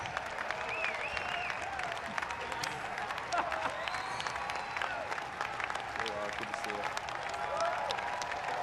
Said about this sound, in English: he got a nice round of applause there